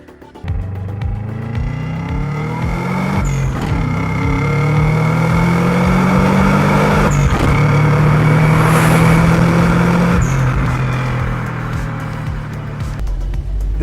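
A Subaru Legacy BD5 engine revs while driving, rising through the gears with repeated climbs in pitch and brief dips at shifts, loud and close from inside the car.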